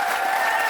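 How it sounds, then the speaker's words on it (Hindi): An audience claps steadily for their parents at a motivational training seminar, a dense wash of applause holding at an even level for the whole moment. "पर चाहूंगा अपने माता पिता के लिए जरूर ताली बजा दो यार"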